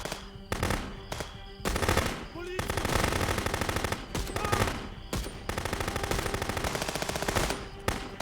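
Rapid full-auto bursts of gunfire from the video game Contraband Police, loud close rattling strings of shots separated by brief pauses, with no talk.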